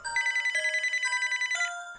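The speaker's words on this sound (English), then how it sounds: "We waited in silence for a few minutes, before my phone rang again." A phone rings with a rapid, trilling electronic bell, two short bursts of fast pulsing tones, close and clear against silence.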